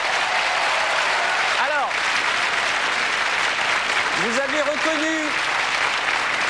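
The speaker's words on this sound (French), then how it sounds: "On peut les applaudir très très fort." Studio audience on the French TV show Rêve d'un jour applauds warmly and steadily, a dense, even clapping bed throughout while a host speaks briefly over it.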